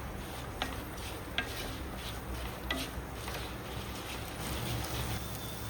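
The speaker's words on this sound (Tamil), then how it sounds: "சுண்டைக்காயை எண்ணெயில் போட்டு வதக்கி எடுத்துக்கிறேன்." Turkey berries being sautéed in oil in a pan give off a soft, steady sizzle, punctuated by scattered light clicks and scrapes of a spoon stirring, faint and close.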